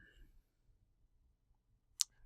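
A single sharp click from an item being clicked in Minecraft, brief and faint after near silence.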